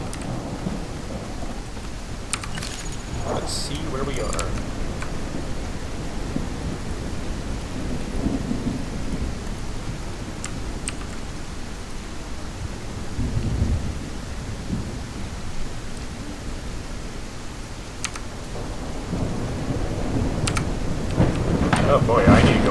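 A thunderstorm in the dinosaur survival game The Isle Evrima: steady heavy rain hisses throughout while thunder cracks and rumbles at intervals, with someone talking briefly over it.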